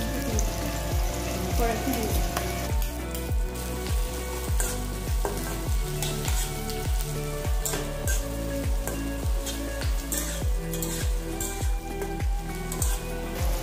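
Chopped garlic frying in a hot pan while cooking chilli chicken, a steady loud sizzle running throughout with regular stirring scrapes.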